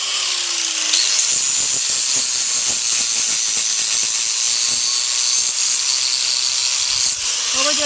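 A power grinder whines steadily as it levels down the heel of a horse's hoof, a loud close continuous hiss-like buzz that runs nearly the whole time.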